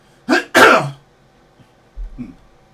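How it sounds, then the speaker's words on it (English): Two sharp coughs in quick succession, close and loud, followed by a short pause and a softer throat-clearing sound. "Excuse me for all the coughing"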